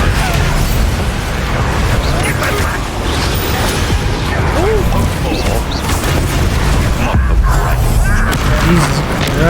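The Confringo explosive spell is cast repeatedly in Hogwarts Legacy amid a dense, loud wash of booming blasts and crackling magic, continuous and close throughout, with battle noise layered over it.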